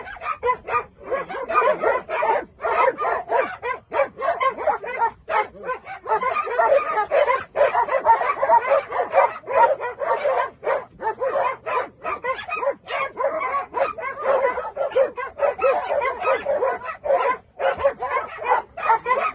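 Several dogs bark and yip excitedly and without pause on the way to a dog park, a dense, loud, overlapping chorus of sharp high calls mixed with whimpers.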